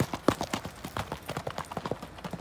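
A horse pulls a farm cart, its hooves clip-clopping in a quick, steady rhythm of sharp, close knocks with no talking.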